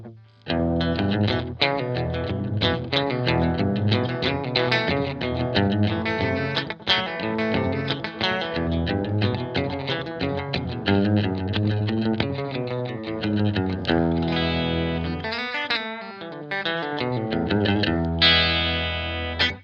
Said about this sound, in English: the quality of the repeats is really degraded on this thing. They're really dirty, mushy echoes.